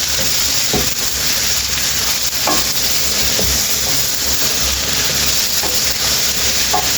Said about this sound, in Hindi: अब हम करेंगे इसको मिक्स अच्छी तरह। मिक्स करके हमने चूल्हा बंद कर देना